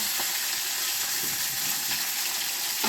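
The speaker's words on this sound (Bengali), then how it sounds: "তেল ছিটতেছে নাকি" Fish head frying in hot oil with whole cumin, a dense, loud, unbroken crackle and hiss of spattering oil with faint scraping underneath and no voices.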